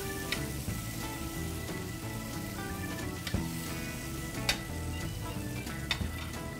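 Browned chunks of beef chuck sizzle steadily in a hot casserole pan, a continuous close crackle with occasional sharper pops and no talking.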